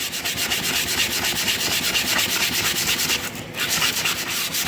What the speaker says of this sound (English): I should use a new piece of sandpaper.